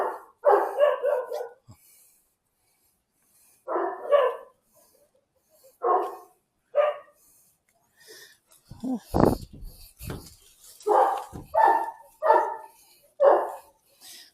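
Several dogs bark in short repeated bursts, moderately close, with a cluster of sharp yaps around the middle and gaps of quiet between volleys.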